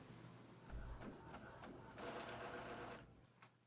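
An Epson SureColor F170 dye-sublimation printer runs a print job with a faint, rhythmic mechanical whirring of carriage passes and feed motors, plus a soft click near the end.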